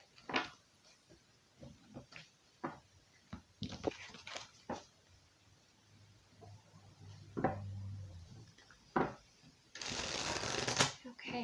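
Tarot cards being shuffled by hand, a run of crisp riffling bursts and soft slaps close up in quiet, followed by a longer flurry of fast card riffling, with faint talk in the background.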